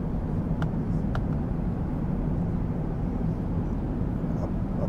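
A Qantas Airbus A380 climbs out of Singapore after takeoff, heard from the economy cabin as a steady, loud low engine roar, with two faint clicks early on.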